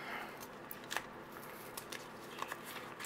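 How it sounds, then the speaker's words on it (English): Crinkly rustling of a plastic bag holding scale model parts from an engine detail kit, handled close up with soft crackles and a few sharper crisp taps, no talking. "Again, another plastic bag so you don't lose the parts."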